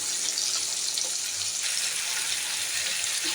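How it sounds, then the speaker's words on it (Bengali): Two large onions frying in oil for a mutton and potato curry give a steady, close, bright sizzle and crackle that holds unbroken throughout, with no talking. "এবার এই তেলেই আমি পেঁয়াজগুলো দিয়ে দিলাম। পেঁয়াজগুলো আবার ভেজে নেবো ভালো করে।"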